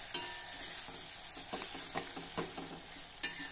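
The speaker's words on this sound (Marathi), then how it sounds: "मंद आचेवर आता हा टोमॅटो आपल्याला छान मऊ होईपर्यंत परतायचा आहे।" A tomato sautés on a low flame for a dry cucumber dish, with a soft continuous sizzle broken by several close scraping stirs of a spoon in the pan.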